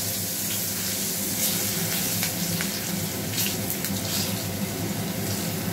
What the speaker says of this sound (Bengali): আলুটা একটু ভাজা ভাজা হয়ে গেছে